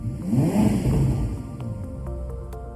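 2021 Ferrari SF90 Spider engine starting and revving, a loud surge that settles into a steady idle, heard close with no voices.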